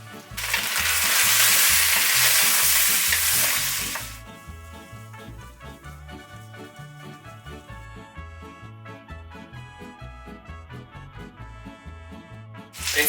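Pork hitting a pot with a little hot oil gives a loud burst of sizzling that settles after a few seconds into a steady, quieter frying crackle with some stirring, no voices.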